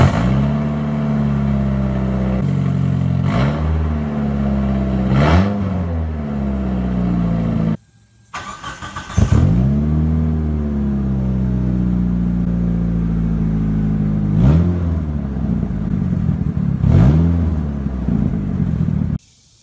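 Engine with freshly wired components, recorded close: a run of loud rising revs, a brief cutout, then a restart and more repeated revving blips that fall back to a rough idle between them.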